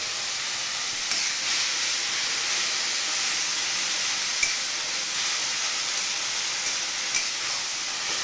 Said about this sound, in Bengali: হালকা করে একটু জল দেবো, তাতে গ্রেভিটা সুন্দরভাবে পাইবে